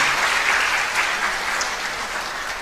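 A crowd at the Nepal Law Campus founding anniversary ceremony applauds loudly, a thick sustained roar of many hands clapping that stays strong and fades only slightly toward the end.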